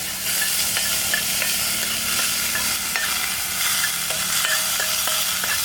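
Dried fish being stirred and mixed in a village cooking pot, a continuous loud sizzle with repeated scraping and clinking strokes of a spoon at an uneven rhythm, no voices.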